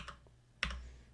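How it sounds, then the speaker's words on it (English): Keystrokes on a new clicky mechanical keyboard: a couple of sharp close clacks, one faint tap early and a louder snap near the end, with no talking. "I got a new clicky clacky keyboard too, so I apologize if it's loud."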